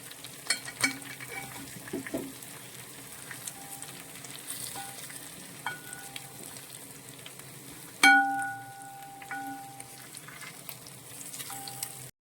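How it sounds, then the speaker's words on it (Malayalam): Chicken pieces frying in a pan crackle in a steady, close sizzle, broken by scattered clinks and one sharp metallic knock as the pieces are turned, no one speaking. "നമ്മുടെ ചിക്കൻ നമുക്കൊന്ന് മറിച്ചിട്ട് കൊടുക്കാം."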